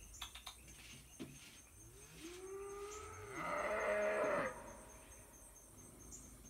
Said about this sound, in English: The cows are going to serenade you for dinner